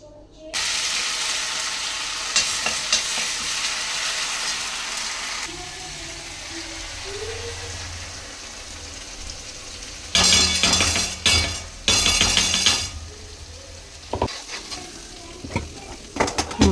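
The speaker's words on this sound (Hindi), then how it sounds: "देखो मैं बना रही हूँ आलू बैंगन की सब्जी" Potato and eggplant curry frying in hot oil in a home kitchen, a steady loud sizzle with stirring scrapes and clinks of a utensil against the pan, briefly swelling louder midway.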